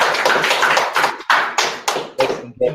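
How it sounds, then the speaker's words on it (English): Audience applause at a live property talk, a burst of close, uneven hand claps rising and falling in short waves before breaking into a few scattered claps, with voices heard underneath. "Big round of applause"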